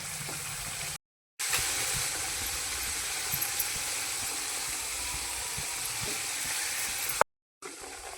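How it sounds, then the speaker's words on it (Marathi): Masala spices frying in oil in a pan for a homemade village-style fish curry, giving a steady, soft hiss and sizzle with faint stirring clatter and no talking. "मसाला त्याला तळून घेते। हलवून घेते मसाला।"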